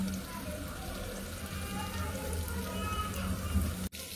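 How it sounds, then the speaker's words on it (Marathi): Tamarind water is poured into a pan while prawn biryani is being cooked, a soft, steady trickle and splash lasting about four seconds before it stops abruptly. "चिंचेमध्ये पाणी टाकून थोडंसं चिंचेचं पाणी बनवलं आहे, ते सुद्धा आपण त्याच्यामध्ये मिक्स करूया"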